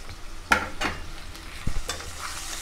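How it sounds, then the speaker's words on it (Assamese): Chopped onions, green chili and ginger-garlic paste fry in hot oil, giving a soft sizzle broken by several sharp stirring scrapes and clinks of a spoon against the pan. "এতিয়া মই ইয়াত দিম কাটি থোৱা পিঁয়াজখিনি আৰু কেঁচা জলকীয়া,"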